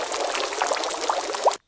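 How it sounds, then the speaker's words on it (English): A water bubbles popping sound effect from Canva's audio library plays alone as a short, dense burst of bubbly, gurgling pouring, steady throughout and then cutting off abruptly. "Water bubbles popping."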